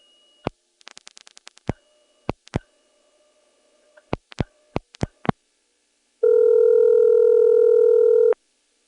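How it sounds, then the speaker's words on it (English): A 1977 EAX local and toll telephone switch in Rock Hill, South Carolina: a faint steady whine with a burst of rapid pulses, then several sharp separate clicks, followed by a loud steady two-tone signal lasting about two seconds before it cuts off. "You could hear there how the whine stopped as soon as it clicked into this."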